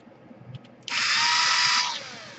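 A power screwdriver whines steadily for a little over a second as it backs out a screw from an Asus X54H laptop, following a few faint clicks, then winds down.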